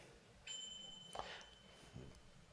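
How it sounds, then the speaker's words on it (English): A bell chimes in a kitchen, heard from another room during a church service: a faint, thin ringing tone that starts abruptly and fades over a couple of seconds, with light background noise. "I trust that a bell just went off in the kitchen."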